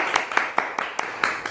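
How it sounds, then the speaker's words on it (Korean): A small group claps to welcome a guest on a podcast, a quick, even run of roughly seven distinct claps, close and fairly loud. "큰 박수로 멜론 머스크님 환영합니다"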